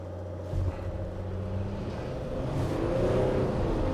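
A 2021 Mercedes Sprinter 2500 cargo van pulls away from a stop, its engine note rising as a low steady drone heard from inside the cab, fairly quiet with no talking.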